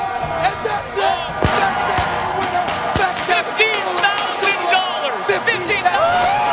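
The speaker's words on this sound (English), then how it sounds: "The crowd is going wild." Tournament crowd at a Clash Royale event roaring and whooping continuously, loud cheers and shouts layered over a busy arena din.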